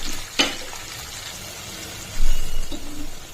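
Ginger garlic paste frying in a pan for egg fried rice: a soft, steady sizzle with a sharp clink of a utensil early on and a brief stirring scrape later.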